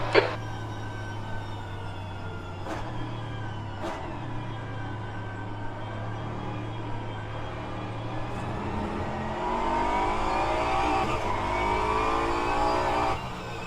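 Race car engine in rFactor 2 played in VR, a steady sustained drone with harmonic layers that climbs in pitch as it revs up, then louder acceleration near the end; no talking.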